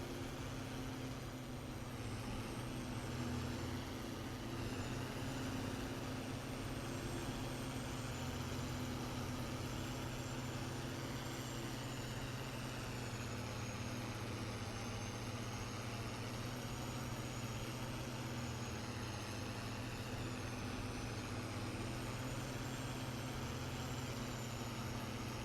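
A Ford tractor engine in a farming video game, a steady low drone that runs unbroken for the whole stretch, moderately loud and alone with no voices.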